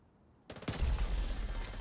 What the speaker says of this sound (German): das war meine Pistole